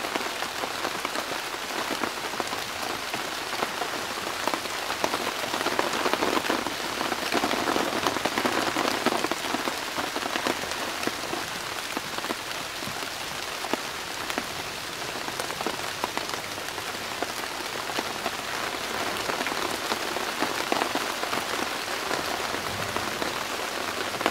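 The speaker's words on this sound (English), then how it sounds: "I've just had some seriously heavy rain, so I've stoked the fire up just to get some light." Heavy rain falls steadily in woodland near a shelter, a dense unbroken hiss of drops pattering on leaves and surfaces, loud and continuous for the whole stretch with no voices.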